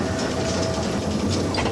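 A steam locomotive on the West Somerset Railway runs downhill, heard from the footplate as a steady, close rumble and clatter with faint rhythmic mechanical ticking.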